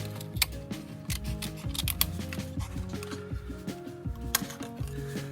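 Scissors trim paper along the top and side edge of a clothespin, giving quick repeated snipping clicks over a steady tonal background hum.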